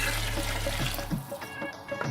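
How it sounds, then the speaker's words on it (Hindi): Hot water is poured into a pot of goat trotters for mutton paya curry, a steady close rush of running liquid heard alone for about two seconds. "और अब इसमें शामिल कर दूँगी मैं गर्म पानी,"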